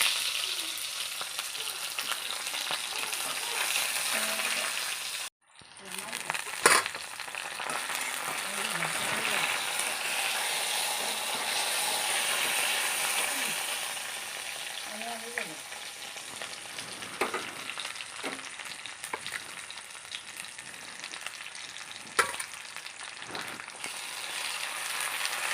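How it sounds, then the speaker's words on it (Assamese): Onions sizzling in hot oil in a heated kadai, a steady close crackling fry that runs throughout with a brief break near the start and occasional stirring clinks, while a person talks quietly over it. "কেৰাহীটো গৰম, তেলখিনি গৰম হোৱাৰ পাছতে এতিয়া পিঁয়াজ দিছোঁ"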